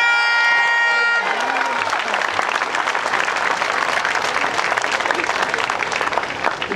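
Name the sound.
applause from the crowd at a political rally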